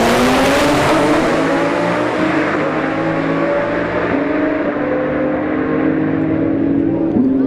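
A 1,000-horsepower Nissan GT-R and an Audi R8 launch side by side at a drag strip, loud engines roaring steadily upward through the gears with audible shift steps, close and continuous throughout.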